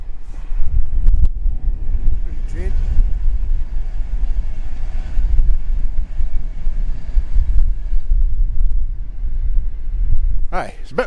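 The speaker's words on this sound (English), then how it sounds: "it's a bit blustery" Blustery outdoor wind buffets a microphone on a cloudy, chilly January day, a loud continuous low rumble with gusty swells, while a voice speaks faintly underneath.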